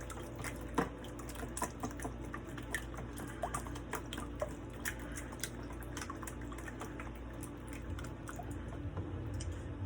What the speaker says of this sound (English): So I'm just gonna add a little more water to it.